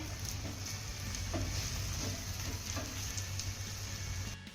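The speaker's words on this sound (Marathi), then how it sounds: "थालीपीठ आपल्याला अल्टी पलटी करत दोन्ही बाजूने छान असा खमंग खरपूस भाजून घ्यायचं आहे" Drumstick thalipeeth flatbread roasting in a pan, giving a steady low sizzle and crackle that runs evenly throughout, close and moderately loud, with no talking.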